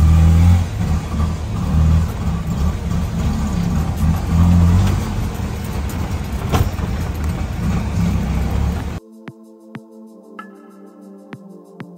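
A car ride through the streets of Colombo, Sri Lanka, with a loud continuous engine and road rumble from inside the vehicle, ending abruptly and followed by a short stretch of music.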